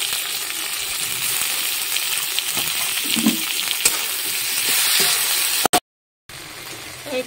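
Steady bright sizzle of spice pastes (cumin, chili, mustard, garlic, ginger) frying with tomatoes in a pan, with occasional soft stirring scrapes, then a brief cut to silence near the end.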